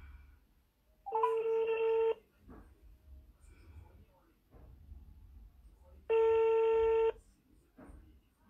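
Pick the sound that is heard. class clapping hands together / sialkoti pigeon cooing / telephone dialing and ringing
telephone dialing and ringing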